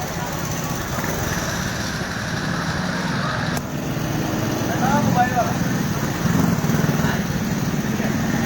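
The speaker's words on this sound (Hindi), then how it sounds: "अब देखें, एक मोटरसाइकिल चल के आ रही है" A motorcycle approaches through heavy rain on a street in Hyderabad, its engine hum growing a little louder under a constant hiss of rainfall, while someone speaks throughout.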